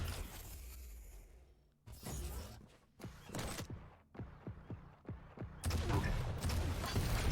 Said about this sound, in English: That was a huge rocket.